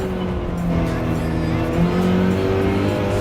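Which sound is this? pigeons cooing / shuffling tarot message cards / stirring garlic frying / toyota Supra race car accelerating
toyota Supra race car accelerating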